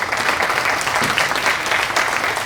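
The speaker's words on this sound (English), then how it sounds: "Maybe a little bit of a round of applause." Dense audience applause at a Vivid Ideas talk, a loud steady patter of many hands clapping close by, continuous for the whole stretch with no voices.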